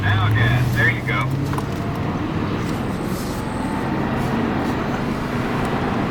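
BMW M5 accelerating on a driving course, a loud engine drone rising at first then settling into a steady roar with wind and road noise, with an instructor's voice talking over it.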